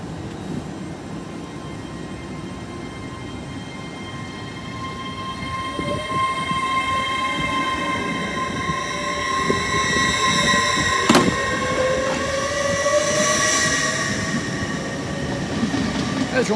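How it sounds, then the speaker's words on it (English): An LNER Azuma passenger train from Edinburgh to London King's Cross runs through Newark Northgate station, a steady rumble with high electric whines and a sharp horn-like tone building and staying close and loud through the end. "The 1219 LNER Azuma from Edinburgh to London King's Cross."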